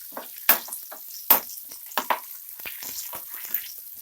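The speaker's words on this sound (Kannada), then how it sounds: "ಮತ್ತು ಜೀರಿಗೆ ಹಾಕ್ಕೊಳ್ಳಿ. ಫ್ರೈ ಮಾಡ್ಕೊಳ್ಳಿ." Cumin seeds frying in a pan while making Hitikida Avarekai masala sambar, a soft crackling sizzle with several sharper pops and scattered stirring scrapes, close and fairly quiet throughout.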